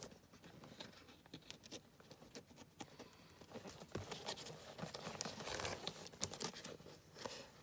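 Faint, close scratchy tearing and crinkling, like tape or paper being pulled off in small irregular rips, with no speech.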